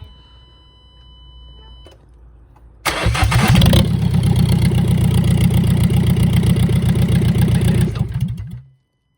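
A Kia Sportage 1.7 CRDi diesel, fitted with a replacement turbo, cranks and fires at about three seconds, then runs with a loud, rough, clattering idle that continues steadily until it cuts off abruptly near the end.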